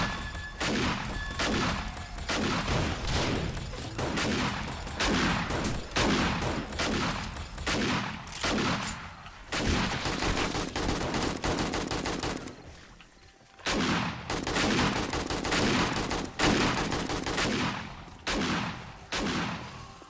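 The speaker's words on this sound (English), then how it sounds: "Got my turrets helping out now." Automated turrets in 7 Days to Die firing on zombies at a mega base, loud sustained bursts of rapid gunfire with brief pauses, continuing for the whole stretch without talk.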